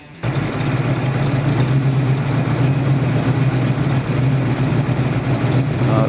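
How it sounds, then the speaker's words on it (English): A 426 Hemi V8 in a 1970 Plymouth 'Cuda convertible with shaker scoop and two four-barrel carburetors idles steadily and close by, a loud, even low rumble throughout after a brief quiet start. "the best option of all is the 426 Hemi V8, which is hiding underneath the satin black shaker scoop"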